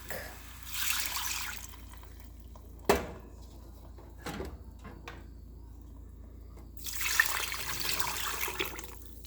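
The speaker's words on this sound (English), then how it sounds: "And then I add my stock." Liquid stock pours into a pot of split peas with chunks of ham for soup: a faint splashing pour, a sharp clunk and small knocks, then another soft stream of liquid.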